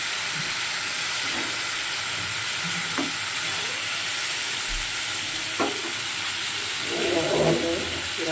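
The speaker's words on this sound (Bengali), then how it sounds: "দেখো, সবজিটা আমার প্রায় ভাজা হয়ে গিয়েছে।" Ridge gourd and potato strips sizzle steadily in oil with black cumin in a pan over low gas, a continuous close hiss with occasional stirring clinks and scrapes.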